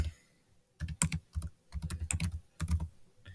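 Someone types on a computer keyboard in quick, uneven bursts of crisp, close clicks and key taps, with short pauses between runs.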